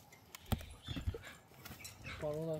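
A Kyrgyz crossbreed horse at an outdoor horse market, with a few close hoof clops and thuds, then a short whinny-like call, under scattered voices and market background noise.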